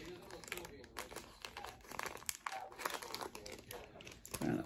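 Plastic packaging crinkles and tears in short bursts while someone unwraps a small order of jewelry such as a pendant and necklace, with a voice talking over the handling.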